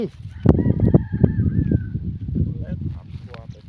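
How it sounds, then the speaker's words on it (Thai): A rooster crows nearby, its drawn-out call rising and falling amid clucking and background chatter speaking Thai. "โอ้ ไก่เนาะ"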